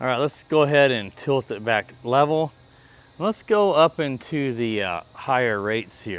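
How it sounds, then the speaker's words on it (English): A steady high-pitched cicada drone runs throughout, constant and fairly loud, beneath someone speaking in short phrases. "You can really hear the cicadas in the background."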